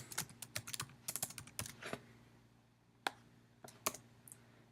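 Typing on a computer keyboard, clusters of quick close key clicks followed by a few isolated taps, fairly quiet with a faint hum beneath and no talk.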